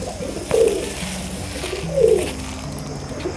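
Pigeons coo softly twice, a pair of low throaty calls over quiet ambient background noise.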